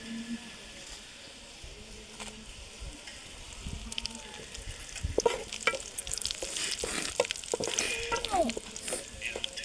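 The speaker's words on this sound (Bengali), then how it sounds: "রসুন আমার লাল লাল করে ভেজে নেওয়া হয়ে গেছে, এখন আমি শুকনা মরিচ দিয়ে দেব।" Dried red chillies frying in oil with already-browned garlic in a pan, a soft steady sizzle that grows busier with sharp crackles and stirring clatter in the second half, close by.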